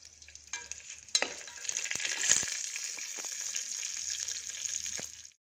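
Mustard seeds, chana dal, cumin and onion spluttering in hot oil for a tondekai gojju, heard as a soft, continuous crackling sizzle with a few sharper pops and no voices.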